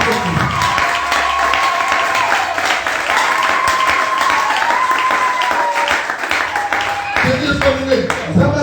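Church congregation applauding and clapping continuously as a dense crowd wash, with voices and a sustained tone running through it and heavier clapping near the end.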